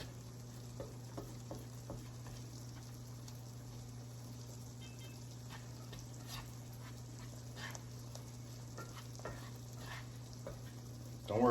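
Flour is stirred into sausage frying in a pan for a biscuits-and-gravy base, giving a soft continuous sizzle with faint scraping and stirring taps over a steady low hum.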